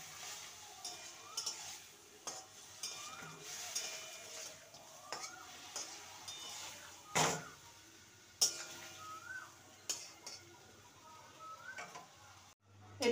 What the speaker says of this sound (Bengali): ঠান্ডা জল থেকে ছেঁকে নিয়েছি, ভালো করে মিশিয়ে নেব।